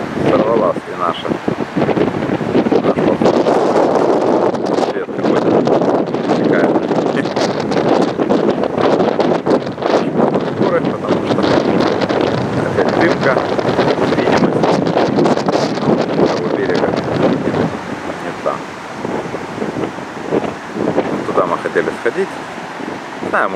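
Strong, continuous wind buffets the microphone with a loud roaring rumble that barely lets up, with no talking.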